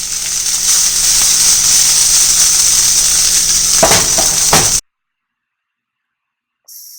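Vegetable fried rice sizzles loudly in hot oil in a pan, a dense steady crackling hiss with a few stirring scrapes before it cuts off abruptly to silence.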